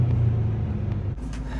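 A BMW E93 M3 convertible engine rumbles loudly as it downshifts, the low drone holding steady before a sudden drop and a shift in pitch near the end, heard close with no talk.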